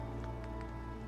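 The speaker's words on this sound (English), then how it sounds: "shelter from the rain." Rain in the video game Fallout 4: Far Harbor, a steady, dense patter of raindrops over a constant low hum, with a few brighter drip-like ticks standing out near the start.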